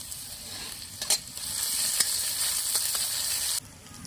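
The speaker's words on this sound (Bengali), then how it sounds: "দুটো তেজপাতা দিয়ে দেবো তেলের উপর থেতো করা রসুন দিয়ে দেব" Crushed garlic and bay leaves frying in hot mustard oil, a steady close sizzle with a few stirring clicks, cutting off sharply near the end.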